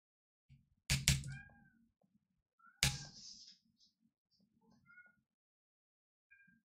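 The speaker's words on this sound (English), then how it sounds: "I hear meowing chat." A cat meows in the room, a few short close cries with quieter mews between them, plus a couple of sharp thumps; no talk.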